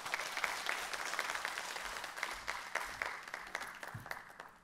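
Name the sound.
congregation applause welcoming pastor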